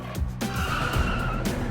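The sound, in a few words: car braking hard, tires skidding on test track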